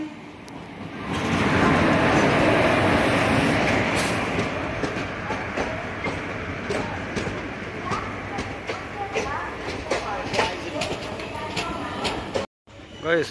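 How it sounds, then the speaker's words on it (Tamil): The Karaikal Express rolls into Chengalpattu Junction, a loud sustained rumble of wheels and carriages with clickety-clack rhythm and occasional squeals, fading slightly as it slows, with voices faintly mixed in. "காரைக்கால் எக்ஸ்பிரஸ் செங்கல்பட்டு ஜங்ஷனுக்குள்ளே வந்துருச்சு."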